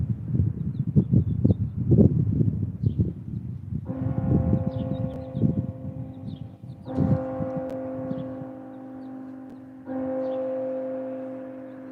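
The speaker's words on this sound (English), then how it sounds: "I was here to hear the church bells at noon." Large church bells toll noon in three long, resonant strikes that ring on and hum, following a stretch of clattering, bustling noise nearby.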